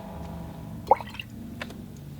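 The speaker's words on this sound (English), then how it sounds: "I'm just going to do a little splashing along the side of the hat." Watercolor paint splashed onto paper along the edge of a painted pirate's hat, heard as a single soft wet drip and squish, close and faint over a quiet room, followed by a couple of smaller taps.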